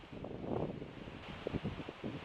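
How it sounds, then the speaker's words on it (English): Wind gusts through autumn trees in Elora's Victoria Park, a soft broadband rushing with leafy rustle swelling and fading, fairly close and steady, with no voices. "You get to hear the wind going through the trees."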